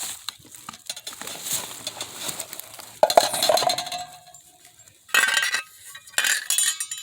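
A Stanley cook pot being handled on a small camping stove, with bright metallic clinks and clanks coming in several separate bursts separated by quieter moments, close and fairly loud.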